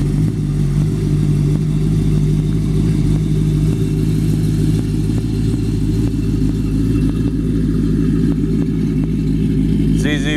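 A 1932 Ford Brookville Roadster with a ZZ-430 V8 pulls out of a driveway and up a street on a San Clemente afternoon, its loud, lumpy engine idling and rumbling steadily, with a brief rev near the end.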